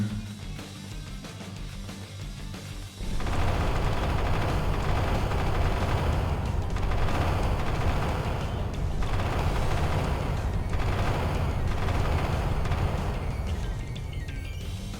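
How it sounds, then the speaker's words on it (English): Repeated Tsar Bomba nuclear blasts rain across a planet in WorldBox, a dense, sustained roar of overlapping explosions that erupts suddenly after a quieter opening and rumbles on loudly without letup. "I decided that I would throw a bunch of Tsar Bombas at the entire planet"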